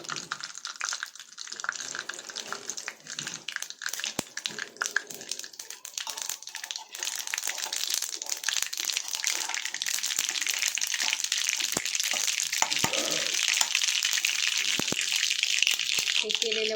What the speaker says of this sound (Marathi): मोहरीला चांगलं तडतडू द्यायचं